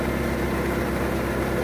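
A New Holland 3630 tractor of 50 horsepower runs a Marhara cutter in farm woodland in Gautam Buddh Nagar, Uttar Pradesh. The engine gives a loud, close, continuous chugging drone with a steady vibrating rumble throughout.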